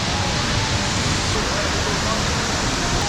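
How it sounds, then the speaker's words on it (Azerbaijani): Indoor waterfall inside Singapore's airport, in front of a shopping mall, a loud, continuous broadband rush of falling water filling the space, with faint voices beneath. "Burada bir şəlalə var. Qapalı şəlalə,"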